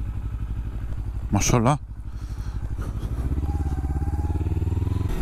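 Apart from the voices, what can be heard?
motorcycle riding through a city street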